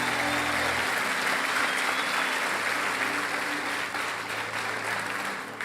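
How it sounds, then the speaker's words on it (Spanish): A church congregation applauds steadily for several seconds during a Sunday morning service, a dense sustained clapping that fades slightly toward the end. "Vamos, denle un aplauso al Señor esta mañana."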